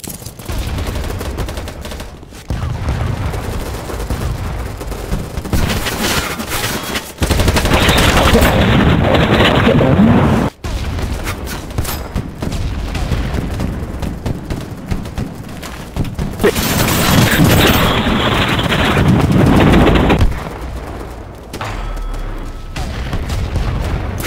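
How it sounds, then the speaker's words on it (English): Loud automatic gunfire and heavy rocket explosions in BattleBit Remastered, with dense bursts of shots and several big booming blasts that rise and fall across a long, chaotic stretch of combat. "It's a second rocket!"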